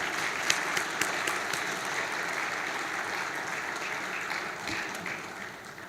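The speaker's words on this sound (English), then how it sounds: "let's give a resounding applause to all MTN employees, both past and present" A large audience applauds at a 25th anniversary launch event, steady sustained clapping with a few sharper claps standing out, moderately loud and even throughout.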